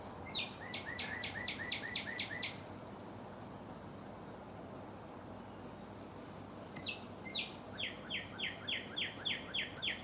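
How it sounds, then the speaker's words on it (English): A bird sings outdoors in two bursts of rapid repeated chirping notes, each a quick series of about eight high whistles, separated by a few seconds of quiet background hum. "Hear that bird?"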